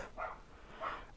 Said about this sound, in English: Ah, the dogs are so loud.